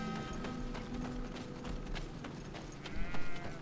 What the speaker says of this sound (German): Mäh? Na, du alte Ziege.